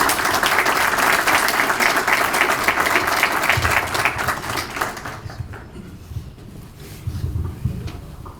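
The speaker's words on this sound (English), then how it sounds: "Round of applause." A room full of people applauds a newly sworn sergeant at a police department swearing-in and promotion ceremony, loud steady clapping that fades out midway, followed by low murmuring.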